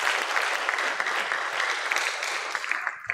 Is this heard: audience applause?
yes